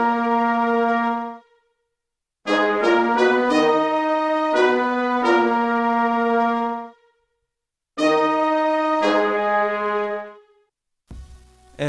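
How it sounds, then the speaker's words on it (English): Layered brass hits play in short phrases, trumpet, trombone and horn tones stacked together, with staccato bursts separated by brief silences. "I then added three layers of brass instruments"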